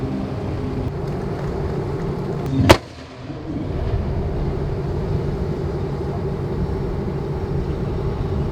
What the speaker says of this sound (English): The 81mm mortars will now engage enemy at vicinity target number 3.